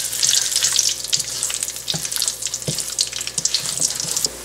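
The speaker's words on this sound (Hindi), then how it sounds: "मज़ीद इसको 1 मिनट के लिए हमने भूनना है।" Masala with chilli frying in a pan for an egg and potato curry, a bright, dense hiss and crackle close by, with a few soft knocks and scrapes of a spoon stirring, no voices.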